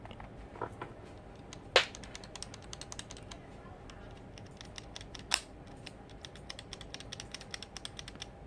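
Keys on a Signo Pegasus KB-739 semi-mechanical gaming keyboard being pressed in a steady run of light clicks, with two sharper, louder strikes standing out, close and alone.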